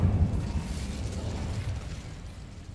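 The Incendio fire spell bursts in Hogwarts Legacy, a loud whooshing blast of flame that starts at full force and rumbles away over about three seconds.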